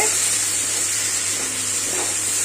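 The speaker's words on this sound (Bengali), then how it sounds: "এবার মশলাটা একটু কষাই" Spice paste, masala made with chili powder, fries in a pan in a home kitchen, giving a close, constant hissing sizzle that stays even throughout, with no voices.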